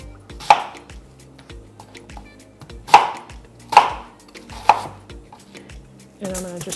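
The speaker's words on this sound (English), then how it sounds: "So you wanna cut the onion in big chunks." A knife cuts a yellow onion into big chunks on a board, with four sharp, separate chops spaced unevenly over several seconds, close and clear with no talking, followed by a brief clatter at the end.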